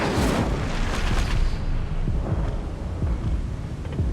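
Incendio fire spell cast in the video game Hogwarts Legacy, a loud, sustained roaring whoosh of flame with rumbling low booms running steadily throughout.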